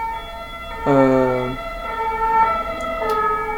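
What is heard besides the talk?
ambulance sirens in a video game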